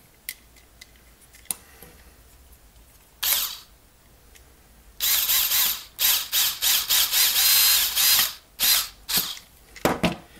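An electric screwdriver drives screws into a Coleco Super Controller keypad in short tapped bursts: a few isolated clicks, then a rapid series of brief whirring pulses, close and loud.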